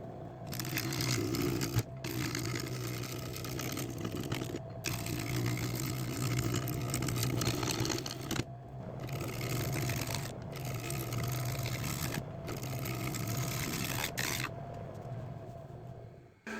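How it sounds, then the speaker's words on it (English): Wood lathe turning down the outside edge of an old cherry log gives a continuous mechanical hum with a rough, rasping cut, broken by several brief pauses across the run. "the first thing I'm going to do is turn this outside edge down"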